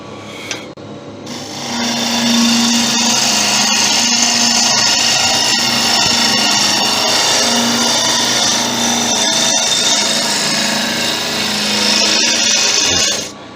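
Thompson hollowing tool cutting into spalted sycamore on a wood lathe, a loud, sustained grinding and scraping drone with a steady hum of the spinning lathe that runs for about eleven seconds before stopping.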